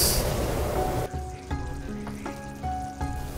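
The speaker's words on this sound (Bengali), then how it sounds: "দুপুরের জন্য রান্না করছি কমলার খোসা দিয়ে ছোট মাছ আর চিকেন পোলাও বাচ্চাদের জন্য" Small fish with orange peel frying in a pan for lunch, a steady loud sizzle for about a second that then gives way to quieter frying under tonal beeps and hums.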